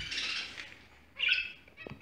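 Pet bird, a young purebred budgie, giving two short bright squawking calls at close range, the first a longer rasping burst and the second a sharper chirp, with brief rustling between.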